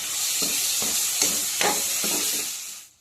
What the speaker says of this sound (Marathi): आता कांदा मऊ फ्राय झालेला आहे, तर त्याच्यामध्ये आता टोमॅटो टाकून घ्यायचा